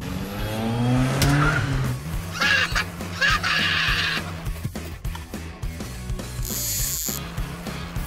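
A toy car in a Mario Kart-style race rattles and whirs with gear-like clicking, while high squealing bursts suggest skids. Whinny-like cries also come through, and the noise stays loud throughout.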